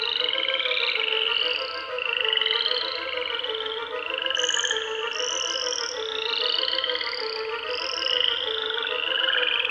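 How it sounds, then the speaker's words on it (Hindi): Continuous warbling croaks like a frog chorus, steady and fairly loud, rising and falling in pitch without pause or speech. "ये एक मेंढक की तरह गा रही है।"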